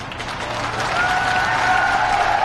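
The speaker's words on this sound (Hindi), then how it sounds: "नहीं, अभी ताली मत बजाइए, अभी ठहरिए।" Audience applauding steadily at a Lok Sabha election political rally in India, a dense sustained clapping that builds slightly and stays loud throughout.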